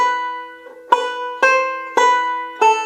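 Guitar plays measure 9 of the fiddle tune "Eighth of January", sounding about five clear, ringing plucked notes and chords at an even pace, close and alone with no talk.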